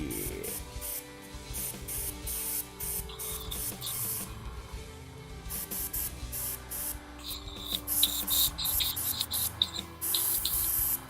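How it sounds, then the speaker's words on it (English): An airbrush compressor runs loudly on a hobby desk during miniature painting, with a steady hum and bursts of hissing air spraying through the hose that grow stronger toward the end. "Man, my compressor is so loud."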